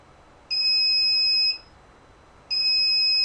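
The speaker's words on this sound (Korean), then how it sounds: "1초 정도 부저가 울렸다가 1초 정도 꺼졌다가 계속 반복되고 있습니다." An electronic buzzer gives a steady high-pitched electronic tone that sounds for about a second, goes silent for about a second, then sounds again, repeating on and off with no voices.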